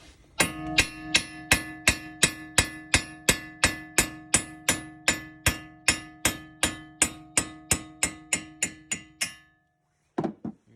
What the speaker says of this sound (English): I'm just taking a regular hammer, and I'm going to give it a couple whacks